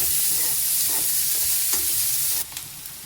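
Onion sautéing in hot oil in a pan for bhindi bhaji crackles and hisses loudly up close, with a few scraping stirs, then the sizzle drops in level near the end.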